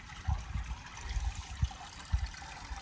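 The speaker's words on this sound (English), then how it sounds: "the water is overrunning out of it and then running down here to irrigate the different trees and crops" Water overflows from a spring-fed pool in Guadalupe Mountains National Park and runs down a channel, making a soft, continuous outdoor trickle with gentle gurgling bumps and a low rumble, and no voices.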